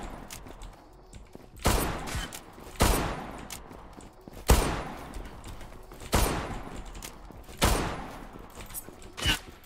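Bursts of automatic gunfire in the online shooter Zula crack out roughly every second or two, each a loud, sharp spray of rapid shots that quickly decays, with quieter game noise between.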